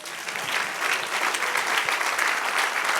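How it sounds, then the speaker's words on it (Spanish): A church congregation applauds during a Spanish-language sermon: dense, loud, continuous clapping from many hands filling the room, with no voice on top. "Dale un aplauso al Señor."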